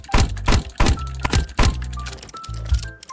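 Melee slash hits in the Roblox game 99 Nights in the Forest: five or six heavy, dull thunks landing at a fairly even rhythm, loud and close, with no talk over them.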